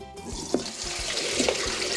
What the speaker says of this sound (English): so I'm just going to pour it into a colander